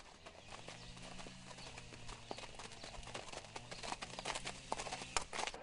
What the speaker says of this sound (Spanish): Le gusta montar a caballo